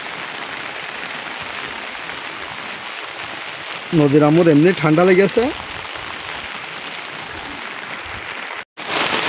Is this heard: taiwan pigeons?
no